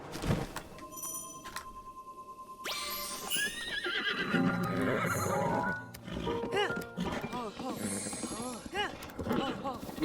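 A horse in Breath of the Wild lets out a loud whinny partway through, among clip-clop and game effects, while people talk over it.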